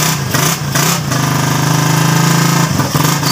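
Motorcycle engine being started: a few short cranking pulses give way to a steady loud running rumble that dips briefly near the end, heard up close with no talk.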